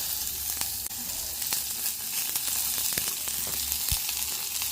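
Crushed coriander seeds, black pepper, garlic, thinly sliced onions and green chillies fry in a hot pan for a pepper rasam, giving a steady close sizzle broken by scattered sharp crackles and pops.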